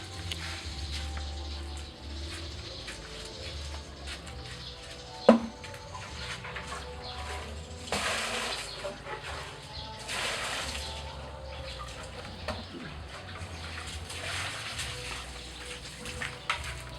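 Water flowing steadily outdoors during cooking of a northeastern Thai fish soup with red ant eggs and tiu leaves, a soft continuous trickle with a few brief splashes and faint bird calls in the background.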